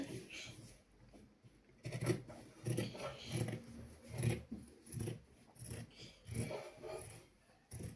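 Scissors snip through saree blouse fabric in a run of short, rhythmic cuts close by, each crunch separated by brief pauses, with a faint voice in the background.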